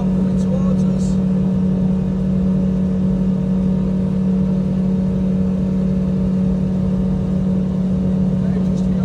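A Finmaster 6 boat runs flat out at 45 knots, its outboard engine holding a loud, steady drone with a strong hum, joined by constant rushing wind and water noise.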